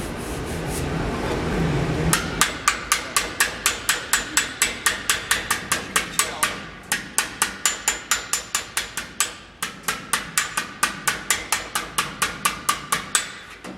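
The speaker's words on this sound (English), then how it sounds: "I'm tapping on the dolly and off of it at the same time." Rapid, evenly spaced metallic taps of a hammer striking sheet metal against a dolly, dozens of sharp ringing blows in steady bursts with brief pauses.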